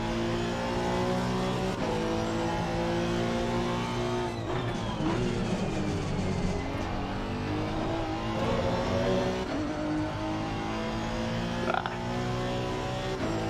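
Race car engine in a racing sim, a Honda on the Bathurst circuit, loud and continuous, revving high and then dropping as it shifts up early several times, with faint tire noise and no talk.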